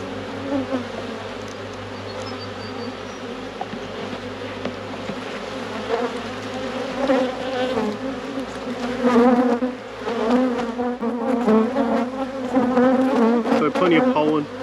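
Honey bees in an open, queenless rescued beehive, a steady close droning buzz of many insects that swells louder partway through, with no talk.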